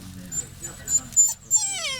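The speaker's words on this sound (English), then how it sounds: "They're all young dogs." Young village dog in Long Tuyoq, East Borneo, whimpering and yipping in short, thin cries through a noisy outdoor scene, with people talking over it.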